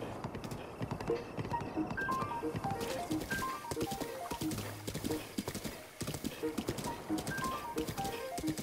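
Horse hooves clip-clop in steady galloping rhythm in Zelda: Breath of the Wild, with a Bokoblin riding, mixed with game music tones, a whinny and a bit of talk over the top.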